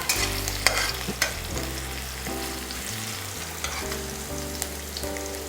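Sliced onion frying in a hot pan of oil for egg manchurian, a steady close sizzle with soft stirring scrapes and a few sharp utensil knocks, continuous with no voices.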